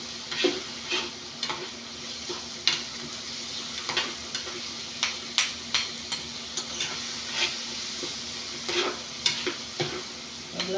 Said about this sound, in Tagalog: Lantayin lang natin ng konti ang kamatis bago ilagay ang gulay.